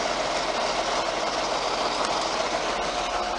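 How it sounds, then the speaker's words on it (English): A John Deere 4450 tractor engages its PTO to drive a John Deere 3970 forage chopper in a hay field, producing a dense, steady mechanical roar and rumble, loud and close throughout. "So I'll turn the PTO on very slowly."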